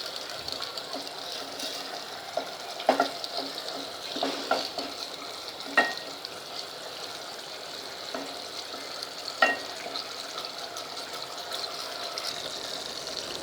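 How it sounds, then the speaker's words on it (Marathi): Chopped tomatoes fry in hot oil in a pan for dal dhokli, giving a steady soft sizzle. A spoon scrapes and stirs now and then with light clinks, and no one speaks. "1 मिनिटभर आपल्याला टोमॅटो छान परतून घ्यायचा आहे"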